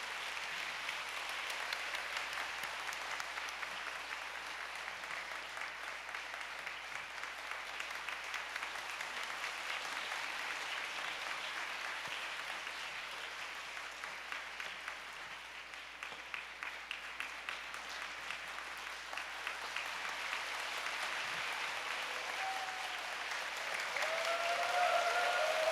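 A church audience at a clergy revival meeting applauds continuously as a bishop is welcomed to the stage: dense, sustained clapping from a large crowd that holds steady, dips slightly, then swells louder toward the end.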